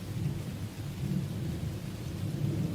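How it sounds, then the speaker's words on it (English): A thunderstorm rages outside, heard as a steady low rumble of thunder blended with constant rain on surfaces, heavy and unbroken throughout, with no voices. "with that thunderstorm raging on outside"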